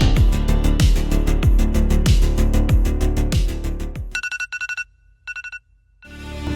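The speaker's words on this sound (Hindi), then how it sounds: "अलार्म बजता है" After a pounding beat, a bright electronic alarm tone rings in short repeated bursts with gaps between them, loud and close.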